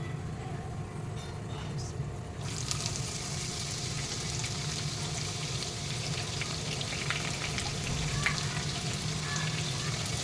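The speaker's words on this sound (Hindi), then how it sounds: "इसमें मैं प्याज डाल रही हूँ।" Steady sizzling of onions frying in a hot pan, a continuous crackle that grows louder after a couple of seconds, with no talking.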